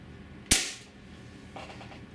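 A Benjamin HB22 .22 calibre multi-pump pellet pistol, pumped seven strokes and loaded with an RWS dome pellet, fires a single sharp, close crack that trails off into a brief ring, followed by a faint rustle.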